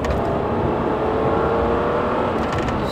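A 30-year-old Mercedes-Benz 300CE W124 engine revved through its throttle cable, a steady, loud mechanical drone holding throughout with no voices over it.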